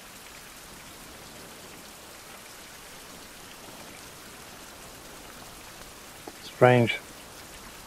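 Steady rain falls outdoors at a survival camp, a constant even hiss that fills the whole clip, with a brief louder burst of a voice speaking near the end.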